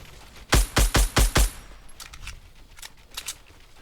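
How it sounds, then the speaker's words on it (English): Gunfire in Fortnite Battle Royale: five loud, rapid shots in a tight burst, followed by scattered fainter shots from farther away. "Where are those shots coming from? Someone was shooting at me."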